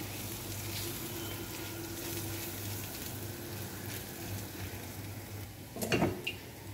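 Ginger paste sizzles steadily in a hot pan while a prawn malai curry is cooked, a continuous frying hiss throughout with a brief louder clatter of stirring or a utensil near the end.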